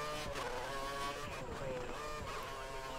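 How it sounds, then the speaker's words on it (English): A Formula 1 car engine in the F1 2013 racing game revs high and steady, its shifting whine sustained and loud throughout with small pitch dips as it changes gear. "God, these cars sound so much beefier."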